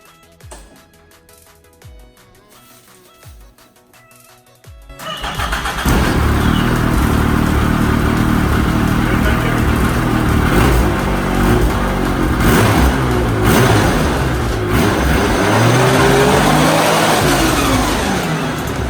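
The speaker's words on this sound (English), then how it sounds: "I did grenade the engine on my dirt bike" A quiet stretch, then a Suzuki dirt bike engine with a blown engine fires up and runs loud and steady, revving throughout close by.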